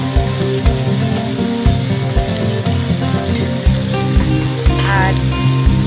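Chopped prawns with green chillies and turmeric sizzle and fry steadily in a hot pan, a close, loud crackling hiss with occasional stirring scrapes and no talking.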